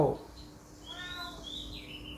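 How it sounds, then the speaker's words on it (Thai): A myna bird gives a series of clear, rising whistled calls outdoors around a house, with a brief low thump at the start and the notes sounding moderately close. "นกเอี้ยงเอ้ยมาเลี้ยงไฟเท่า"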